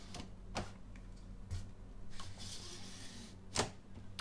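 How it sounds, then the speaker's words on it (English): A printhead is slid back and forth inside an opened Brother MFC-5890CN inkjet printer during a printhead replacement, making faint, scattered clicks and sharp knocks with soft scraping between them, quiet and close, with no voices. "So slide the printhead in every direction."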